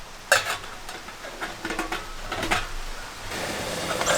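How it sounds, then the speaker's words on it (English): Water comes to a rolling boil in a bush pot over an outdoor camp kitchen, a steady bubbling hiss with scattered pops and clinks that builds toward the end, with no voices. "I've got a rolling boil going there."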